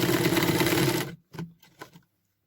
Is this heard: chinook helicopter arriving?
no